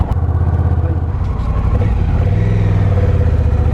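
Honda Rebel 1100 cruiser motorcycle pulling away as the ride starts, its engine a loud, close, low throbbing rumble that rises in pitch as it accelerates, with wind noise over it.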